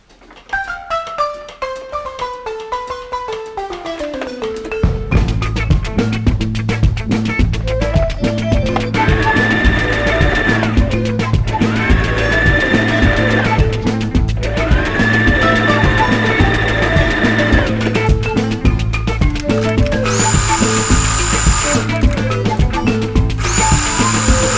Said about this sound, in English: So what I'm going to do is just simply join them together and stitch it on.